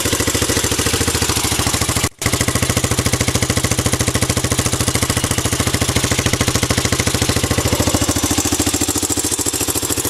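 A 1984 Honda off-road engine, an ATC 200X three-wheeler or Z50R mini bike, runs close and loud at a steady idle, its rapid regular firing pulses broken once by a brief cut before resuming unchanged.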